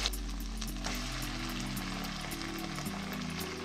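Meat sizzling as it is dropped into a hot frying pan, a steady close crackle of frying with a low hum beneath and occasional stirring clatter, no talk.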